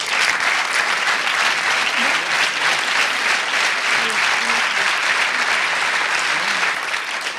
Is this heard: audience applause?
yes